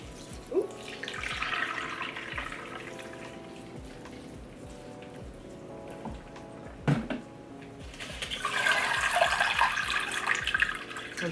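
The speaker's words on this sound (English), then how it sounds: "I'm just gonna give it some water." Water poured into a houseplant pot set up in semi-hydro, a faint splashing trickle that comes and goes in two short bursts before a steadier run, close up with no talking.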